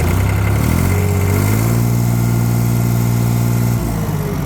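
A New Holland tractor engine revs up from idle to full RPM, holding a loud, steady drone close by before dropping off near the end, with no talk.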